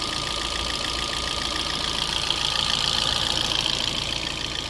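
A 2012 Fiat 500 engine idling smoothly with no knock, a steady even hum with a fine rapid pulse running unbroken throughout, close and alone.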